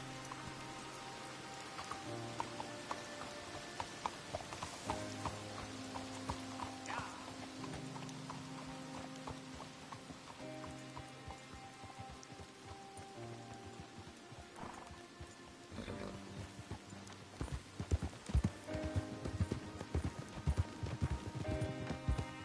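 Steady clip-clop of horse hooves in Red Dead Redemption 2, with occasional whinnies and a rainy hiss in the background.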